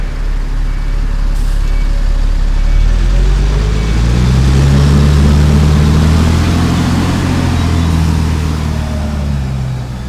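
Heavy traffic on a busy road, with a bus engine's deep rumble and gear-shifting whine rising and falling close by, loud and continuous.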